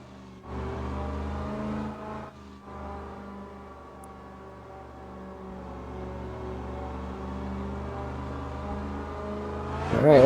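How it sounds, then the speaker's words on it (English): A video game car engine drones and revs steadily, rising and falling in pitch, with a sharp louder burst at the very end; no voices. "This car just sounds so good."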